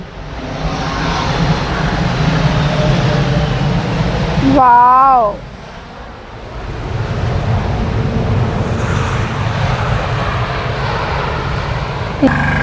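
A low, steady engine roar fills the background throughout, broad and continuous, from an airplane flying overhead near an airport, with a voice briefly exclaiming over it.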